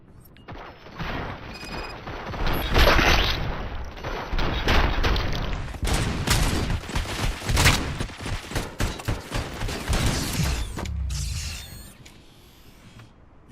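Sustained bursts of gunfire in the video game Robocop: Rogue City, rapid shots and crashing impacts layered loudly for over ten seconds before cutting off, with brief voice fragments near the start.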